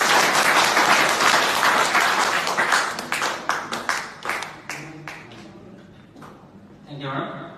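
Loud applause from an audience greeting a speaker as he comes onto the stage at a company presentation, dense clapping that thins into scattered claps before a voice begins at the end.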